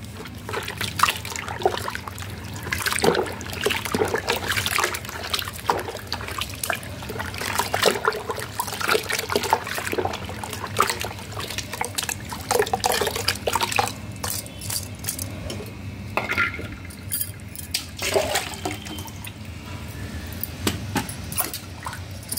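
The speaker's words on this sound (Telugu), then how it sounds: "ఇంకొక లోట నీళ్ళు అయితే పోస్తున్నాను ఇందులో." Water poured from a small vessel into a container of fermenting liquid made from spoiled mangoes trickles and sloshes steadily up close, with occasional splashes and faint clinks of the container.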